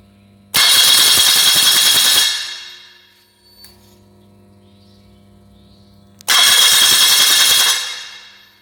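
A car starter motor is tested during a starting-system check, giving two loud, harsh cranking bursts of under two seconds each. Each burst cuts in abruptly and is separated by a quiet pause.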